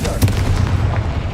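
A Confringo fire spell from the Hogwarts Legacy video game bursts inside a small mine, a sudden booming blast with a rumbling, crackling tail that fades over about a second.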